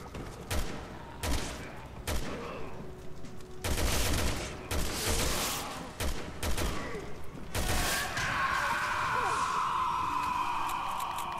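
Gunfire in Resident Evil 6 during Leon's campaign: loud, sharp volleys burst out repeatedly, some clustered close together, before giving way to a sustained ringing tone, with faint talk underneath.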